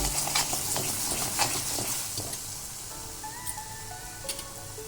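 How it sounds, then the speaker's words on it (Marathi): Masala sautéing in hot oil in a pan for ragda pattie, a steady close sizzle and crackle with soft stirring scrapes throughout, no voices. "थोडंसं तेल बाजूला सुटूपर्यंत आपल्याला हे परतायचं आहे."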